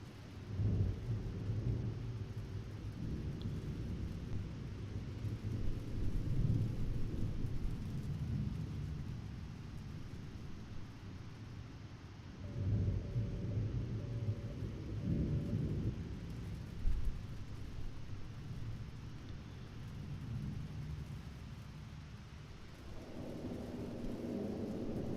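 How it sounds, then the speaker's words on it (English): Thunderstorm and rain in the mining game Gold Rush, with low rolling thunder rumbling in long swells over a steady wash of rain, loud and continuous with no talk. "We'll just kind of work to the sounds of nature here as this thunderstorm rolls on in."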